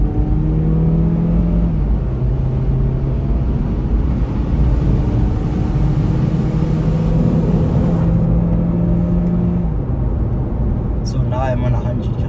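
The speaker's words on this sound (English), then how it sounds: "I'm gonna put it on sport, then manual, so you can hear the kickback." A Mazda CX-3 Hikari crossover SUV engine revs and shifts in sport manual mode, the note climbing and stepping between gears under road and wind noise, with someone talking over it.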